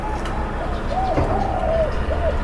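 At a bird-watching camp in Khao Yai, a bird gives several soft, rounded cooing calls close by over a steady background hum, with no talk.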